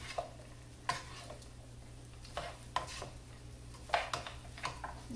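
Garlic fried rice with bacon cooks in a pan with a faint, low sizzle under a steady hum, broken by several sharp scrapes and stirs of a utensil at irregular intervals.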